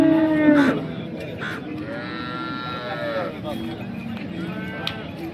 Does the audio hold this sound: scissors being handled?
no